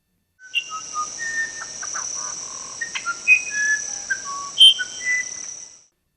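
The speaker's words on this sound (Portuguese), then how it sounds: "Esse é o Uirapuru." A uirapuru bird sings a sequence of clear, pure whistled notes at varying pitches, each short and separated by pauses, over a steady high insect-like hum.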